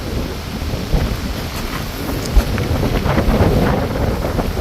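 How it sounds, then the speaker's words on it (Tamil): Strong wind on a hilltop roars and buffets the microphone in steady, rushing gusts with no voices, loud and close throughout. "நல்ல காற்றடிக்குது பாருங்கள், சிலு சிலுன்னு அடிக்குது."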